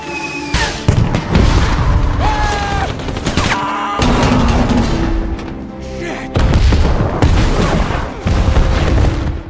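Loud booming blasts and crashing detonations in rapid succession, dense and chaotic like heavy gunfire, with brief gaps between bursts.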